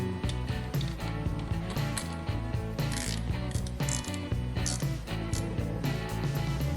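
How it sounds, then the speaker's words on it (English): A hand ratchet snugs down throttle body bolts on a 62mm throttle body and tunnel ram intake, making repeated quick clicking bursts up close with short pauses between strokes. "throttle body itself, we can actually snug this down tight."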